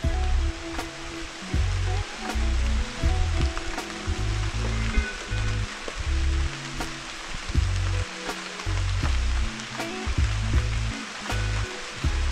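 A 45-metre waterfall at the Arenal hanging bridges in the Costa Rican rainforest gives a constant broad rushing roar, with low steady tones running underneath throughout.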